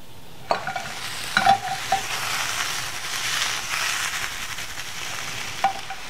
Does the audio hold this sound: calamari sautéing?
yes